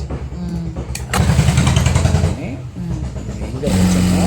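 A sewing machine stitches a kuppayam garment in bursts, a rapid mechanical whirring that starts, stops and restarts, heard close up alongside someone speaking.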